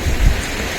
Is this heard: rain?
yes